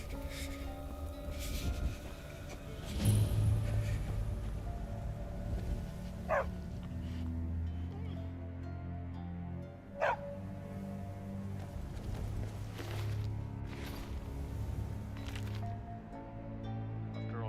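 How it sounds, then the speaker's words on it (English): A dog barks in the video game Skyrim, two short separate barks at moderate distance over a steady bed of ambient game music and outdoor atmosphere. "It's a dog."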